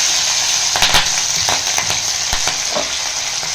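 Green chili, tomato and brinjal sizzle loudly in a hot pan of oil, a steady close frying hiss broken by a few stirring clatters and knocks, with no talking.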